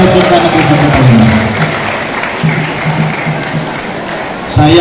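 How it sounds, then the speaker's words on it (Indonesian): A crowd claps for the principal of a state school in Palembang at a school ceremony. The applause is a steady, moderate patter, partly mixed with a voice over the sound system. "Tepuk tangan yang meriah untuk Kepala Sekolah Negeri 1 Palembang."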